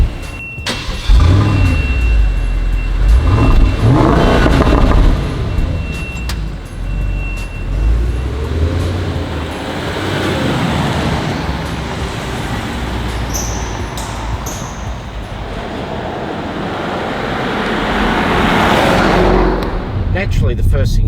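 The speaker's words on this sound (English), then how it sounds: "a really sonorous exhaust system which complements the 4-litre V8 perfectly" A Bentley Flying Spur V8S with a 4-litre V8 drives on the road, its exhaust giving a deep, continuous rumble that swells and eases with throttle, mixed with passing traffic and road noise.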